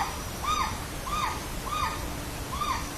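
Morepork owl calling at night in New Zealand bush, four evenly spaced two-note calls repeated about every 0.7 seconds, moderately loud over a steady background hiss.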